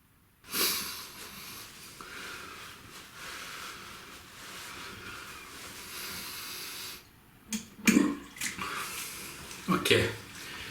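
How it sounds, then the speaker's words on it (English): Warm water runs at a bathroom sink while a face is rinsed of Palmolive after a shave: a steady hiss of flowing water, then several loud, close splashes and wet snorts near the end. "just a rinse off, wasn't even cold water, just warm water rinsed"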